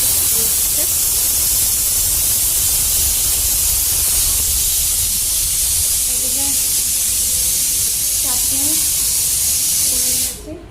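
Meat cooking in a pressure cooker on a home kitchen stove gives a loud, steady hiss of escaping steam that runs nearly unbroken, with faint kitchen clatter underneath, then cuts off abruptly near the end.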